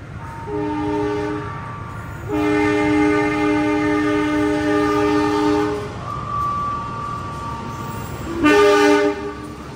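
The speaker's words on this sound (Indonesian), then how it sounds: "Yang akan melintas adalah kereta api Sawung Galih dari stasiun Kutoarjo" A train horn blares in several long, harmonic blasts as the Sawung Galih train passes, rumbling underneath, with a final loud blast near the end.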